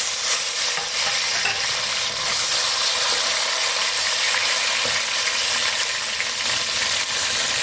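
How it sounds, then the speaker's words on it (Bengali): Tomatoes frying in a hot pan for cauliflower and potato curry give a steady, bright sizzle that fills the whole stretch without pause, with no talking. "এবার আমি এর মধ্যে টমেটোগুলো ছেড়ে দিচ্ছি।"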